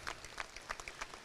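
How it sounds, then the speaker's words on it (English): Faint audience applause at a coastal restoration panel event, a brief patter of scattered claps from a modest crowd. "A round of applause for them, please."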